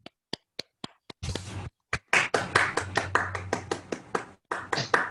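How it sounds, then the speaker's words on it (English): A small room of people at a joint club meeting claps in sharp bursts, a few isolated claps first, then a full round of applause with brief pauses between waves. "Please give a big round of applause"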